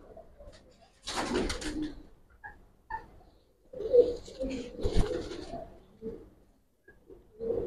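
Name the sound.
giribaz pigeon hen cooing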